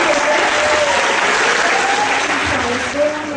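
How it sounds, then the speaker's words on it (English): Dense, continuous applause from a school assembly audience, loud and steady throughout, with faint voices beneath the clapping. "Give a big round of applause to them."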